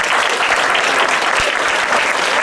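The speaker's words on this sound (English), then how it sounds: "Let's give them a big round of applause." School assembly audience applauding for a class performance, a dense, steady burst of clapping from many hands close by, loud and continuous throughout.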